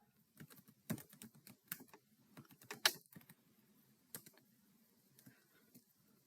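Password being typed on a computer keyboard, with a quick, irregular run of soft key clicks and a few sharper taps, close and fairly quiet, with no talking.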